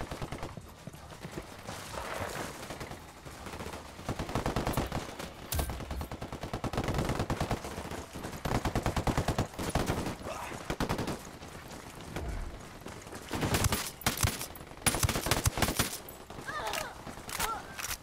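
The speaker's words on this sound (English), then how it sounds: "I'm opening fire on these shitheads." Gunfire in the video game Ghost Recon Wildlands, with rapid, dense bursts of shots rattling through the whole stretch amid mixed game noise, firing heavier toward the end.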